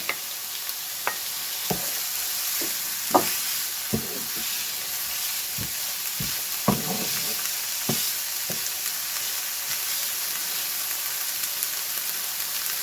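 Knacki sausages and bell pepper sautéing in a pan for a quiche, a steady close sizzle broken by scattered sharp clicks and scrapes of stirring.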